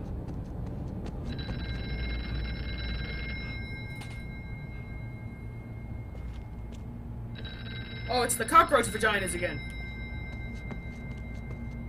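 A telephone rings in the horror game Here They Lie, two bursts of electronic trilling ring a few seconds apart over a low droning ambience, with someone speaking briefly between them.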